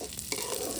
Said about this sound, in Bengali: এই যে এখন ডাল ভাজছে।